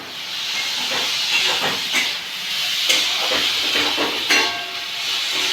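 Steady loud hiss of steam escaping from a pressure cooker that keeps failing to seal, with a few brief louder spurts over the continuous rush.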